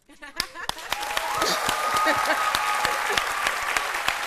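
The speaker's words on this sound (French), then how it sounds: "À 13h00, tu te mets à applaudir comme un fou." A studio audience at a midday Ivorian television show bursts into loud, sustained applause that swells within the first second and carries on steadily to the end, with scattered sharper claps standing out.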